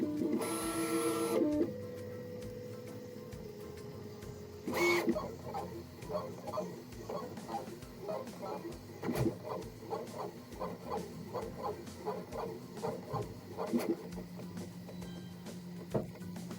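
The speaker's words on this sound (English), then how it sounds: "Now I will let the printer to do the job." A 3D printer prints an umbrella part, its stepper motors whirring and buzzing in quick, repeated pitched movements. Close and moderately loud, it opens with a brief louder mechanical whine.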